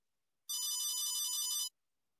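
A cell phone ringtone sounds once in a quiet office, a bright electronic melody lasting just over a second, loud and alone with no talk over it.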